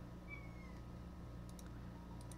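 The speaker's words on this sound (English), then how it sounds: "I've got a cat chirping behind me." A cat chirps faintly behind a Minecraft game session, a few brief high chirps over a steady low hum, with no talking.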